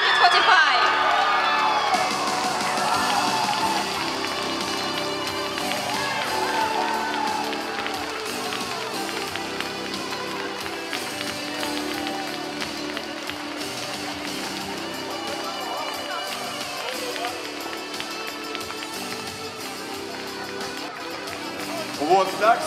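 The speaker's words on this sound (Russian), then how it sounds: "Под ваши бурные аплодисменты." The audience at an international cat show cheers and whoops with some clapping under loud music, while an announcer talks over the crowd.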